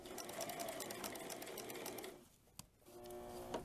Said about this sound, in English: What we just did was simply sewed the apron